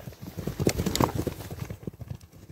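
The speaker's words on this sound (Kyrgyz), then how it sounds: "атты чаап көргөзүп атабыз" Hooves of a horse galloping outdoors at a horse sale, a quick uneven clip-clop rhythm fairly close and moderately loud, with faint background noise.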